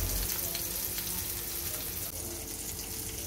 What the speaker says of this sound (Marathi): आता हलव्याच्या तुकड्याला पॅन मध्ये सोडून घेऊया।